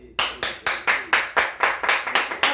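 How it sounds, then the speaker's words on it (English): A hand clapping repeatedly, about ten sharp claps in a steady rhythm, close and crisp with no talking. "Talk about the energy of a hand clap."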